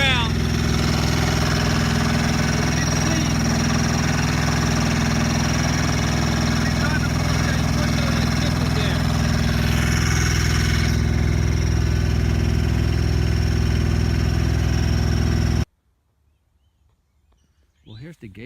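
A tractor pulling a brush hog cuts along a ditch, a loud, steady engine drone close by with mower noise layered on top, ending abruptly in near silence.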